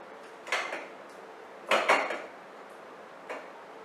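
A knife clatters into dishes in a kitchen during lemonade-making, giving two sharp metallic clanks followed by a fainter third clink, close and alone.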